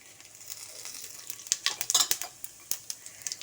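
Cumin seeds frying in hot oil in a pan, a soft sizzle with sharp crackling pops and the scrape of a stirring spoon, close and fairly quiet with no talk.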